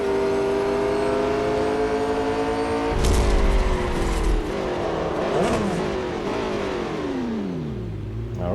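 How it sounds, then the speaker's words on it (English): A fully upgraded 2019 McLaren 720S GT3 launches in a drag race at Suzuka in Real Racing 3. The engine revs high and steady, then roars louder through rising gear pulls, loud and close with no talk. "drag race at Suzuka"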